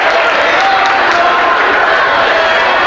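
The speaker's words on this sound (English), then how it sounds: "the Milbank crowd right in front of me making all kinds of noise" A Milbank crowd at a girls' high school basketball semifinal in a gym, a loud, continuous wash of cheering, yelling and clapping close by with voices mixed in.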